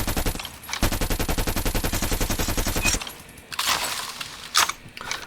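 Krig 6 assault rifle fire in Call of Duty ranked multiplayer, a long rapid automatic burst with evenly spaced sharp shots, loud and close, followed by scattered shorter bursts and clatter.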